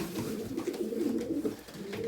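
Soft, repeated cooing of pigeons in a loft in the evening, several birds overlapping in a steady murmur close by, with no talking.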